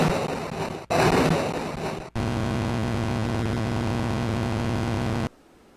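A car engine starting in an 8-bit Nintendo racing game gives a harsh, noisy chiptune roar. It comes in loud bursts with two short breaks, then a sustained buzzing drone that stops abruptly near the end.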